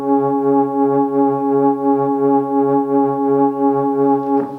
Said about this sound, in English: So I used another plugin, which is the Waves plugin, to sort of synthesize this ambient sound